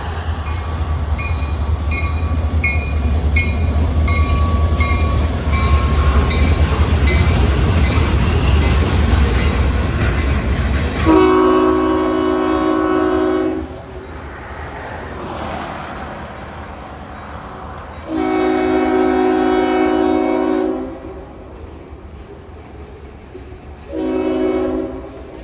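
A St Lawrence & Atlantic train passes near Route 121 in Oxford, Maine: loud, steady rolling rumble at first, then three close horn blasts, two long and one short, with quieter rail noise in between.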